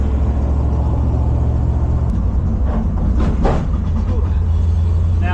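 A 1971 Plymouth Satellite drives over a bridge, its engine and road rumble steady and loud from inside the car, with a brief thump partway through.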